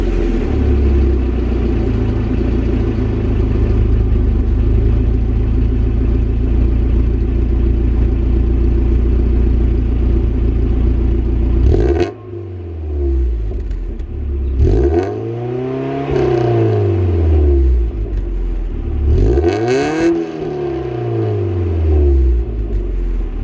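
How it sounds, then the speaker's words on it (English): A Mazda Miata NA with stock header, Walker catalytic converter and Magnaflow exhaust idles warm with a loud, steady burble, then is revved twice in sharp rising and falling sweeps. "what you're gonna hear here is still the stock header, the Walker catalytic converter, and the Magnaflow exhaust"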